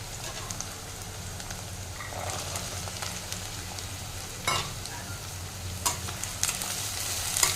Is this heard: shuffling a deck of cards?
no